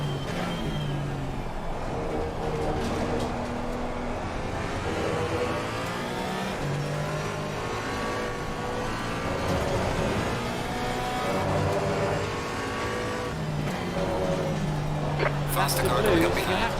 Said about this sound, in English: There's some faster cars approaching.